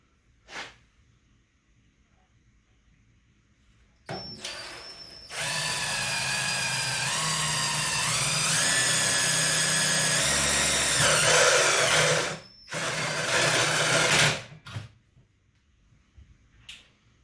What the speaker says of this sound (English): if you ain't ever seen this, this is a step drill